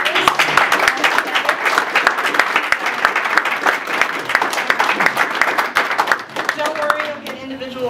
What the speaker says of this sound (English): If you could stand up so we can give you a quick round of applause.